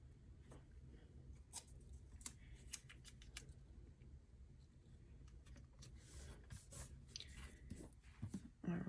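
Scissors snip paper decorations for a planner in quiet, scattered cuts up close, faint clicks and rustles spread over several seconds with no one talking.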